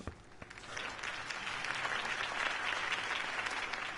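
Applause from an in-game crowd greeting Harvey Dent at a campaign event in Telltale's Batman game, a dense, steady wash of many clapping hands that swells slightly and holds for several seconds without voices.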